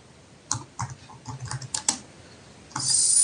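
Name being typed on a computer keyboard during logo design work, a quick burst of close key taps in uneven clusters, then a brief pause before a louder hiss at the end.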